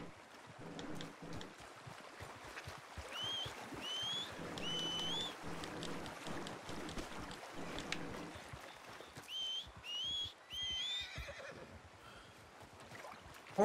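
Horses in Red Dead Redemption 2 whinny repeatedly over a busy background of hoof clatter and flowing water, with two clusters of shrill neighs.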